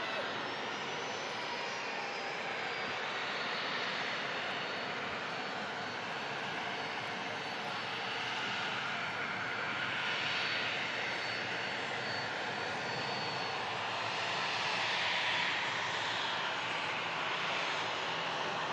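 A Ryanair UK jet airliner at Manchester Airport gives off a continuous broadband engine roar that swells gently and stays steady throughout, moderately distant, with no voices heard.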